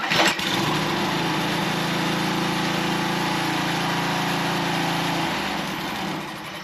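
A small engine, likely garden equipment such as a tiller or edger, is held at full throttle: a steady, close, high-pitched buzzing roar that holds for several seconds before easing off near the end.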